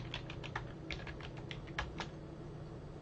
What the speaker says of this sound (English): I'm going to type in download